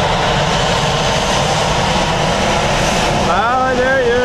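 A Ryanair jet airliner at Dublin Airport roars loud and steady with its engines close by, and a rising whine emerges near the end while voices talk under the noise.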